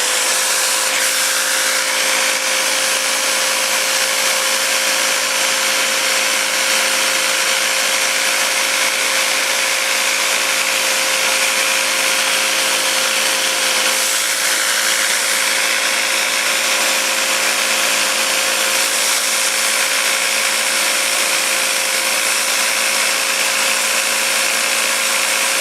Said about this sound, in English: I've got a jigsaw attached to the thing.